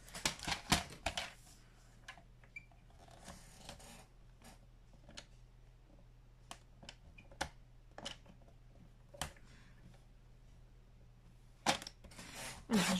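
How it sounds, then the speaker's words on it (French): Scissors cutting a piece of altered paperclip embellishment to size, a quiet series of short dry snips and clicks spaced irregularly over steady low background hum, with a louder cluster at the start and near the end. "Donc, on va le découper à la bonne taille."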